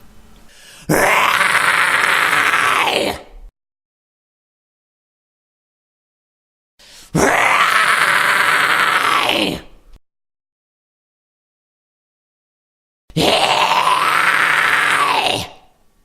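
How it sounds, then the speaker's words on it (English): A false chord scream, the screamo vocal technique, comes in three loud, raspy, sustained bursts of about two to three seconds each, separated by silent pauses. "that's what my false chord scream sounds like"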